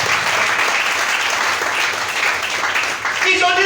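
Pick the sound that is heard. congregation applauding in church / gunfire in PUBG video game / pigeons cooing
congregation applauding in church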